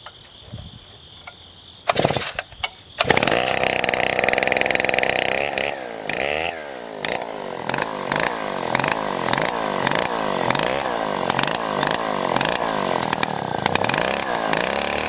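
A cheap 105cc chainsaw mills walnut, starting with a sputter and then running loud and close with repeated rising and falling revs as it cuts.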